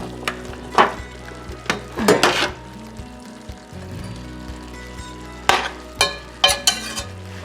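Beef stir fry with green peas sizzling in a pan, the hiss carrying under loud clanks and scrapes of a utensil against metal that come in bursts, close up and without speech.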